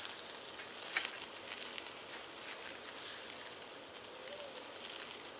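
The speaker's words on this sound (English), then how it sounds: "we're going to throw this bone-in ribeye, some folks call it a cowboy steak, on the Lifedoo as our test" Bone-in ribeye, a thick cowboy steak, crackling on the grates of a Lifedoo portable grill, a steady close hiss of searing fat with scattered pops and no voices.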